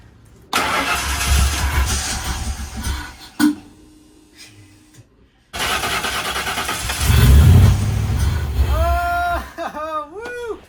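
A 1968 Mustang with a swapped Ford Explorer 5.0-liter V8 cranks in bursts and then catches, running loud and rough near the mic, with someone talking over parts of it.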